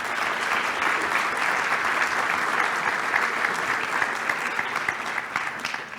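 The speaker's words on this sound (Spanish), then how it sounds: "Lo recibimos con un fuerte aplauso" Steady, dense applause fills a hall as a seminar audience at a national public budget seminar welcomes a provincial finance minister, sustained evenly for several seconds with no talk.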